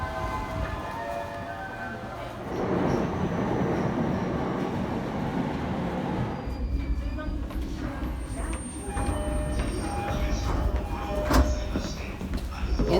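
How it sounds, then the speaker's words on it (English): A JR line train in Tokyo headed to Nakano Station, rumbling and clattering on the rails with a rising whine and ringing tones, loud and close, with people speaking over the ride. "you want to take the JR line to Nakano Station"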